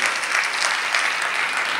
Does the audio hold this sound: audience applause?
yes